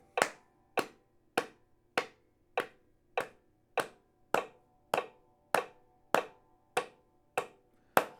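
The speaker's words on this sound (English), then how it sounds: "When you hear the click, you clap." Sharp, evenly spaced claps land on a steady metronome beat during a banjo timing drill, about fourteen crisp hits in eight seconds, close and clear with no talking.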